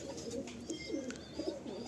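A pet pigeon coos softly several times in a row, low throaty calls repeating at a gentle rhythm against quiet background noise.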